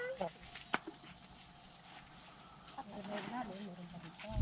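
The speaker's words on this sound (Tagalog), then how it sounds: "May mga manok namin, oh." Farmyard chickens cluck in short, faint bursts against quiet rural background noise, with a voice speaking over them at times.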